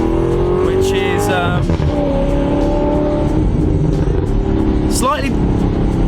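An Alfa Romeo 8C engine roars loudly and continuously, revving with rising and falling pitch sweeps and a brief tire squeal, close and dominant throughout.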